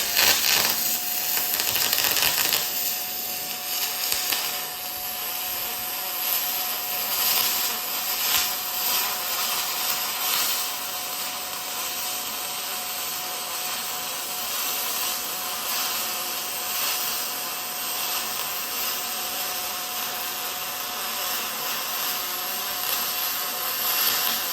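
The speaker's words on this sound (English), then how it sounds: "Wow, first time ever welding aluminum" Aluminum is MIG welded with a YesWelder MIG-205DS Pro and LBT150 spool gun, giving a steady, close crackling hiss that runs unbroken for over twenty seconds with slight wavering and no talk.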